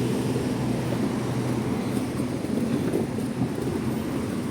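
Breeze blowing outdoors in Hong Kong on a cloudy day, heard as a steady, low rumbling wind buffeting the microphone throughout, with no one talking.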